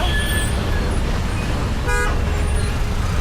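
Busy Hyderabad road traffic with a steady roar of engines and one short, loud car horn toot near the middle, close by and without talk.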